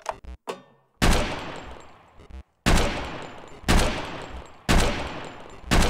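Machine gun fire in the video game Bedlam, a few short clicks followed by four long, loud bursts of rapid automatic fire separated by brief pauses.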